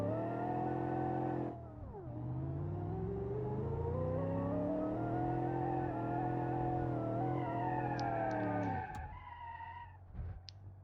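A car in the driving game BeamNG revs and shifts through rising and falling engine tones, then cuts off sharply near the end amid brief scrapes and impacts; no voices.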